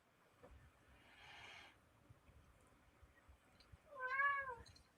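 A pet cat meows twice in a quiet room, a soft drawn-out mew followed about three seconds later by a louder, clearer meow near the end.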